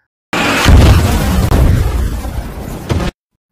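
A loud, sustained explosive blast from a missile strike on a ship in the film Johnny English Strikes Again rumbles with heavy low-end boom, followed by a second burst near the end, cinematic and close.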